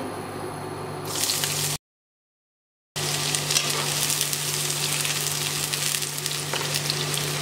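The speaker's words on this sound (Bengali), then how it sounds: "পেঁয়াজগুলোকে আমি ভেজে নিচ্ছি এভাবে আমি ভেজে নিচ্ছি দুই থেকে তিন মিনিটের মতো" A quarter cup of chopped onion fries in hot oil, giving a loud, steady, close sizzle that runs throughout apart from a short silent break.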